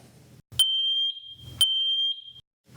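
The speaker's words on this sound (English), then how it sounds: "all connected alarms will chirp for 15 seconds" A Matelec FSA-30000 wireless photoelectric smoke alarm being tested gives two loud, piercing electronic beeps, each holding about a second, close and alone in a quiet room.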